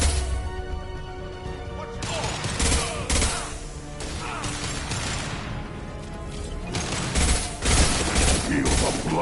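Loud gunfire in Mass Effect 2 crackles in dense bursts and sharp impacts across nine seconds, rapid volleys overlapping with crashes, close and intense, with game voices muttering underneath.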